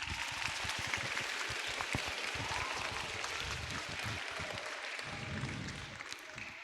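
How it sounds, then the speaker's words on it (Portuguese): School audience applauding a guest, a dense, continuous wash of many hands clapping at moderate distance with a faint crowd murmur underneath. "Palmas para ele."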